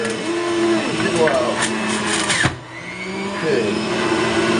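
A strong-motored juicer pulps a whole cucumber for green juice, a loud steady motor whine with grinding crunches that dips briefly midway before resuming, while a person talks over it.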